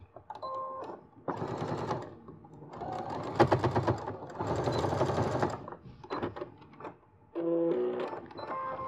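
Close, loud stitching bursts from a sewing machine sewing a zipper, several runs of rapid mechanical whirring with short pauses between, then softer handling clicks and a final run.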